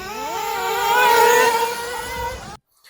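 Nitro-powered RC car engine revving hard, a buzzing high-pitched whine that climbs in pitch, holds near and loud, then cuts off abruptly into silence.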